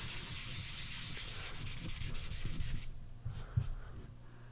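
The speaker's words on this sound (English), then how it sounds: "So anyways, let's sand a little bit more." Filler in the extension gaps of a modded puzzle is sanded by hand, close scratchy rubbing strokes in a quick back-and-forth rhythm that slow and thin out near the end.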